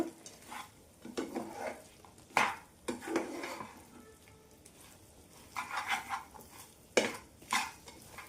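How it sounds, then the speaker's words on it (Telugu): Roasted chana dal is stirred into hot chikki syrup in a pan, giving bursts of scraping, sticky stirring and a few louder spoon knocks against the metal, close and intermittent, with quieter gaps between strokes. "మనం ముందుగా వేయించి పెట్టుకున్నాం కదా శనగపప్పు అవి కూడా వేసుకొని బాగా కలపాలి"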